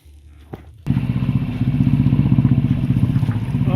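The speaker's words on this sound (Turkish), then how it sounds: "Böyle buhar atması normal mi sence? Aşağı yukarı 10 bin devirde motor." A boat engine running at high revs, around 10,000 rpm, while emitting steam, roars loudly with a steady rapid pulsing after a brief thump, continuing close and unbroken.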